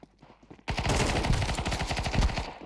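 Rapid automatic gunfire bursts out in a video game as shots tear through a wall, a loud, dense, fast rattle starting abruptly after a short quiet lead-in and continuing to the end.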